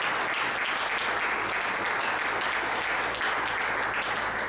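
A church congregation at a doctrinal symposium applauding: dense, sustained clapping from many hands at a steady, fairly loud level for the whole stretch, with no voices standing out.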